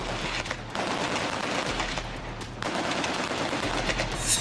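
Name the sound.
rapid gunfire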